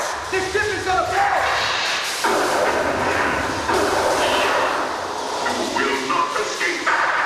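Theme park ride train on the Universal Studios tour rumbling and clattering amid dramatic show effects, with loud voices shouting and a rushing, explosive din throughout.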